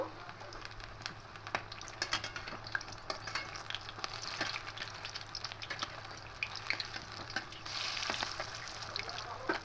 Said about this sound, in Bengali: দেখুন শাকগুলো ভাজা হয়ে গেছে